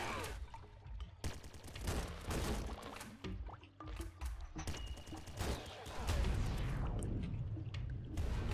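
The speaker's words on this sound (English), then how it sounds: "Infinity machine gun." Infinity machine gun firing nonstop in the Nuclear Throne Ultra Mod game, a dense, loud stream of rapid shots with crunchy game effects layered over it for the whole stretch.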